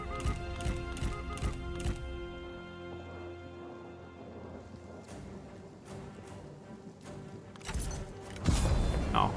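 Hooves of a horse clip-clop steadily in a Total War-style strategy game battle, with rhythmic thuds and a swell of battlefield noise near the end.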